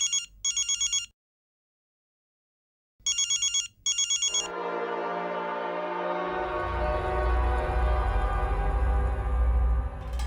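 A telephone bell rings in two quick bursts with a pause between, then music swells in.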